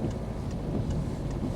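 Rain falls steadily on a moving car, a constant loud wash of noise with no breaks.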